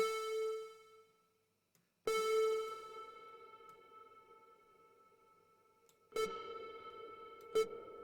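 Sustained tones from a Cherry Audio DCO-106 software synthesizer, modelled on the Roland Juno-106, ring out in a few separate hits, each trailing into a short room reverb tail, with quiet gaps between.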